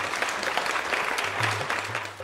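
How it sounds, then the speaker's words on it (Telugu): An audience at a farmers' agriculture programme claps steadily for about two seconds, a dense, even wash of applause with no talking over it. "అయితే ఇప్పుడు మనం కార్యక్రమాన్ని ప్రారంభిద్దాం పెద్ద చప్పట్లతో"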